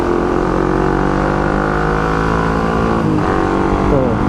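A loud motorcycle racing exhaust in its first sound mode holds a steady, buzzy note, with a brief pitch dip and rise near the end.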